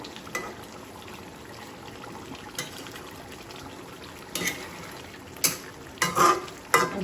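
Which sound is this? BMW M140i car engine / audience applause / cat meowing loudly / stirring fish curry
stirring fish curry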